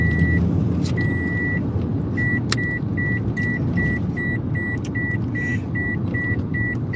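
Car sounds made with Tactical MIDI: a steady low engine-like rumble under a repeating electronic beep pattern, pulsing in regular short and longer tones, with a few sharp clicks.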